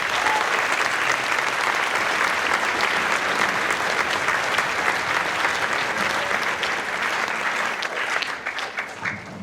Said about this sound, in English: So give all the band teachers a round of applause, please.